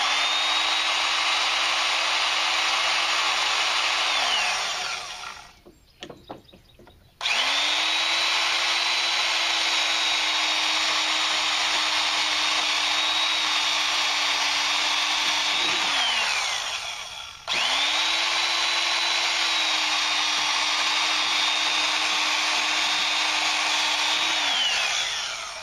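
A portable band saw cuts metal pieces for a kayak cart, with a loud steady whine during three long cuts, its pitch dropping as each cut finishes, and brief gaps between them.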